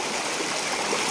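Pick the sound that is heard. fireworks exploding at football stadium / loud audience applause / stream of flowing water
stream of flowing water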